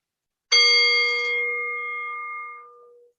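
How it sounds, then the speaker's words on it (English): A single singing bowl is struck once to open a gentle yoga practice, ringing out clearly alone and sustaining a long, slowly fading metallic tone for nearly three seconds. "We will begin with the bowl and end with the chimes."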